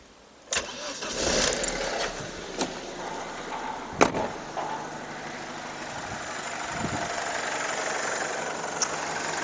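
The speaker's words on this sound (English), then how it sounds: "let's crank this engine up to see how the belt sounds" A BMW E46 engine cranks and starts after its drive belt and tensioners are replaced, then settles into a steady idle with a few sharp knocks and clicks nearby.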